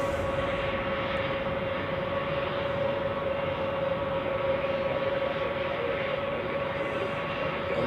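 An Airbus A320 airliner at Zurich Airport on a winter day, its engines giving a steady, loud jet roar with a sustained whine that holds evenly throughout, with no voices.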